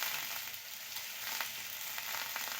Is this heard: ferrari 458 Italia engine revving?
no